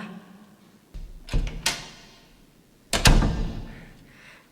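A door rattles and thumps as it is handled and opened, with a few sharp knocks and bumps in two clusters of wooden clatter, fairly close, with no voices.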